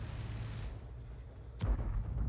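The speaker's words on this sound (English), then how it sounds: "Oh, that's the Tessac firing." A Tessac tank gun fires in a World of Tanks-style battle, one sharp distant-sounding report rising out of a low, steady rumble of background noise, followed by a lingering boom.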